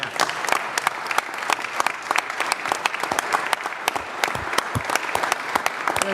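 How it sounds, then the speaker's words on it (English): Audience at a city council meeting breaks into steady applause, dense overlapping claps filling the room for several seconds without pause. "Let's have a big round of applause for Ed."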